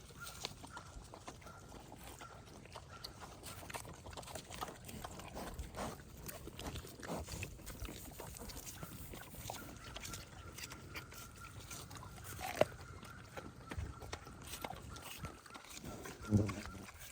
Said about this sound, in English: Here's the big pigs and goats enjoying produce.